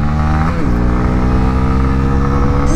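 A Honda CB125R motorcycle engine runs loud and close in a low gear under throttle, a steady buzzing drone with a slight jolt early on as the load changes.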